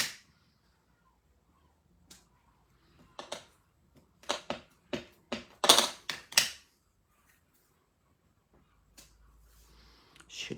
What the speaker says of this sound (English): So I'm going to stamp 5 of these out.